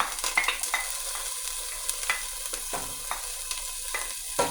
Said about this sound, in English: All right, we got the onion we're gonna put in, and that is the frozen onion.